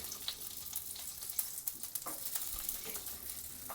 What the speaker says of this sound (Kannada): ಇವಾಗ ಹಸಿಮೆಣ್ಸಿಕಾಯಿ ಹುರ್ಕೋಣ